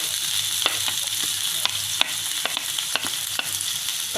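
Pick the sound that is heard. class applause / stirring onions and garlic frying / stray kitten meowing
stirring onions and garlic frying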